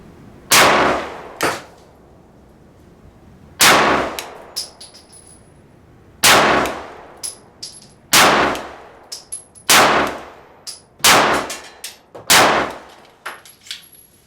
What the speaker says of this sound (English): I'm going to shoot into the center of the target, and I'm just going to work the trigger a little bit